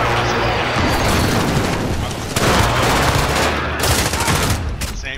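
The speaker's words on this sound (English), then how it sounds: "I'm shooting UAV. P90 not hit." Sustained P90 submachine-gun fire in Modern Warfare aimed at a UAV: continuous rapid bursts, loud and close, with the rattle swelling in several waves across the whole stretch.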